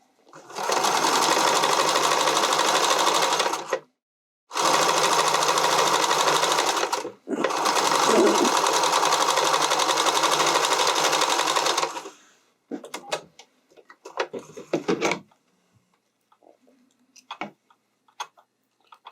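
A domestic sewing machine stitches stretch fabric for a skating dress in three long, even runs separated by brief stops, followed by scattered light clicks and taps as the work is handled.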